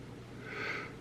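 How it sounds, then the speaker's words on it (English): A single abrupt sneeze bursts out at the very end, loud and close after a soft breathy buildup of a person indoors. "I'm going to sneeze"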